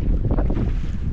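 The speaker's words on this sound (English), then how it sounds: "I wish this wind would just lay down" Steady wind roars across the microphone on an open fishing boat out on the water, a continuous low buffeting rush with no speech.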